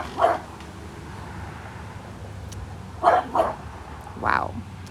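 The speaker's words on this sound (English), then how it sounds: "And you got your dogs barking." A few sharp dog barks sound at a distance, one early and a cluster near the end, over a low steady background hum.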